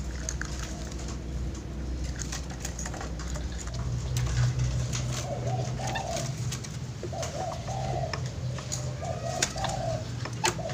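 Zebra dove (perkutut) cooing in repeated soft rhythmic phrases, moderately close, over a quiet background with light patter and faint ambient hum.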